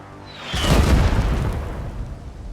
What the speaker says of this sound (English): Sight it in, send out a barrage.